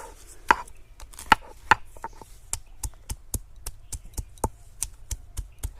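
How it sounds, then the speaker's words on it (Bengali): Raw turmeric and neem leaves pounded and ground on a stone slab, sounding as a steady series of sharp, close knocks and taps at a fairly regular rhythm, with no voices. "আমি শিলে বেটে নিচ্ছি"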